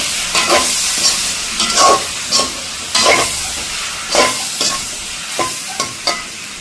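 Ginger paste sautéing in a hot pan, a soft sizzle broken by repeated scraping stirs of a spoon, close and clear with no talking.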